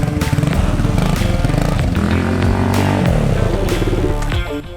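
A two-stroke motorcycle engine revs loudly and close by, its buzzing tone climbing and falling through repeated throttle blips with sharp crackling bursts, continuous throughout.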